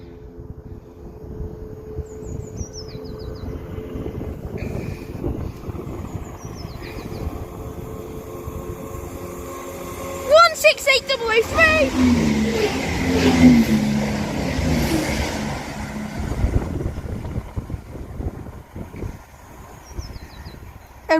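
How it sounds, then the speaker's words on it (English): A Chiltern Railways Clubman and Turbostar diesel multiple unit, refurbished class 168, passes at speed through Kings Sutton on the Chiltern Main Line, with a rising engine roar, a loud burst as it goes by, then a fading rumble. "Oh, do I love the sounds of hearing either Clubman or Turbo Star trains passing through at speeds."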